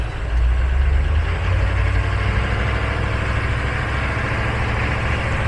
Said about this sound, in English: the massive GM diesel engine.